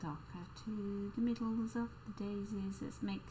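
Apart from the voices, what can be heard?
No everyday noise stands out behind the speech.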